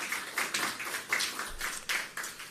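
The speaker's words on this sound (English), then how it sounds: "big round of applause" Brief burst of applause from an audience at a media briefing on hurricane recovery and the farming sector, fairly faint and distant, with a quick patter of scattered claps rising and falling.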